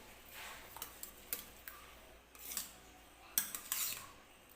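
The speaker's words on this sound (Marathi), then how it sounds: "तर हे बघा छान असे मी डाळ फेटून घेतली" A spoon whisks soft cooked dal in a pot, giving quiet scraping and clinking strokes in an irregular rhythm, faint and close.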